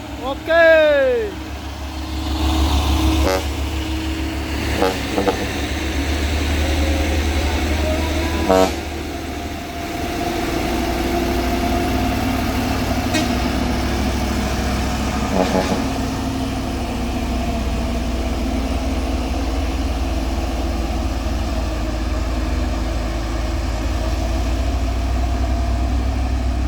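A heavy Mitsubishi Fuso PS diesel truck engine rumbles steadily throughout, with a few brief horn-like tones early on and people talking over the constant drone.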